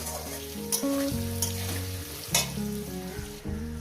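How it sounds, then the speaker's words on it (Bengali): Potatoes fry with salt in a pan, a steady hiss of sizzling heard faintly beneath louder tuneful background music, with occasional scraping stirs. "আর এই আলুর মধ্যে দিয়ে দেবো একটু লবণ আর হয়তো লবণ লাগবে না এই লবণেই হয়ে যাবে দিয়ে লাল লাল করে ভেজে নেব"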